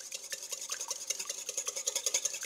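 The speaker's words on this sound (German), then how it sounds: "Und jetzt verrühren wir das schon mal, dass das Ganze schön glatt ist." A spoon stirs mustard, salt and pepper in a bowl until smooth, with steady, rapid clinking scrapes against the bowl, close and continuous with no talk.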